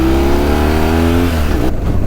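A muddy 2004 BMW R1200GS motorcycle, taken green laning, revs loud and close under throttle. The engine tone climbs steadily, then drops away after about two seconds.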